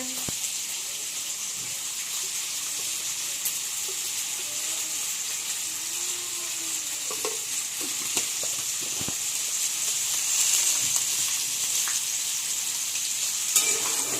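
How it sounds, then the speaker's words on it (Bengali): Fish frying in a pan in a home kitchen gives a continuous, even sizzle across the whole stretch, with scattered small pops and utensil taps. It grows slightly louder near the end, and no one speaks. "এদিকে মাছ ভাজা হচ্ছে।"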